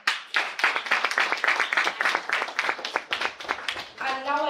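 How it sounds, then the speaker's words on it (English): Dense, lively clapping from a workshop audience on sustainable consumption, many hands close and continuous for several seconds before a voice begins speaking at the very end. "Let us give a big round of applause to our speaker."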